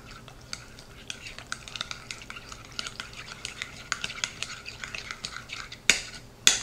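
A utensil stirs a pasta salad seasoned with pepper and salt, giving steady soft scraping and clinking in a bowl, with a couple of sharper clanks near the end.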